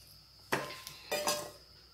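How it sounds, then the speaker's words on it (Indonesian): A spoon scrapes and knocks against a bowl while a grated cassava mixture is stirred, giving two distinct clattering strokes close by over a faint steady hum. "di sini mudah sekali Bunda, cuma diaduk-aduk aja cara bikinnya"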